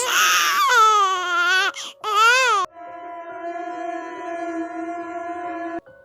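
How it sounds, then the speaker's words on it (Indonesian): A baby cries from inside a well in a horror sound effect, with loud, close, wavering wails broken by a short gap, then a steady, eerie, droning tone. "dalam sumur terdengar suara bayi menangis"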